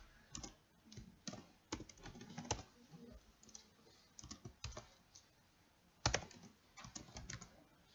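A file name being typed on a computer keyboard with close, distinct key clicks in uneven bursts, broken by pauses and a few louder presses, and no talking.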